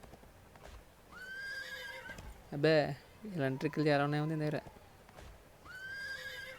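Horse in the Free Fire video game whinnies twice in a loud, close burst mid-clip, with someone talking over the game sounds before and after.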